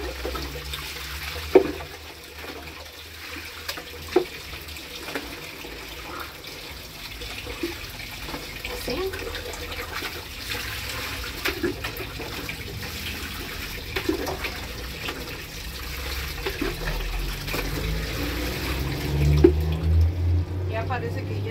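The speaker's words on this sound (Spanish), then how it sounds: "Ya nada más para enjuagarlo." A suit jacket is rinsed under running water, a steady splashing and trickling throughout with occasional wet slaps and knocks, and a person speaking over it at times.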